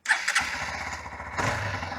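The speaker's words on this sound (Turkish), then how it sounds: "Egzoz sesini dinleyelim." A Hero XPulse 200 4V Pro motorcycle engine starts with a few sharp bursts, then settles into a steady, throbbing exhaust idle close to the microphone.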